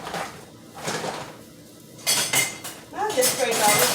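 Kitchen utensils clatter and clink while someone rummages for a small whisk, metal tools jangling in bursts that grow louder and busier toward the end, with a little talk mixed in.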